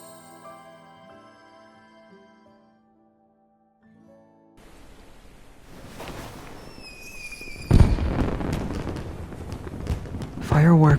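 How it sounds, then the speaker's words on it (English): Fireworks burst and crackle in the video game Love and Deepspace, starting after a quiet stretch with music, then building into loud repeated pops and crackling explosions with sharp booms near the end. "Fireworks are beautiful,"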